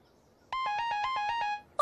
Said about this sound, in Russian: О, мне снова звонят.